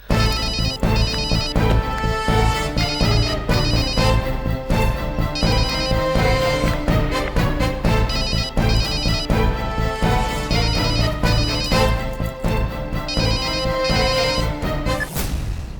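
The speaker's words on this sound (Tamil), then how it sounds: "ஃபோன் உள்ளதான் அடிக்குது." A mobile phone rings from inside a bag left behind in a taxi. A loud, continuous melodic ringtone plays steadily for about sixteen seconds with no talking.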